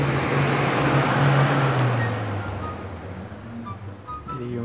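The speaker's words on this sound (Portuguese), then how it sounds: "o ventilador vai dar pra ouvir tudo" An electric fan runs in a dark bedroom at night, a loud steady whooshing drone with a low hum that dips slightly partway through, heard alone.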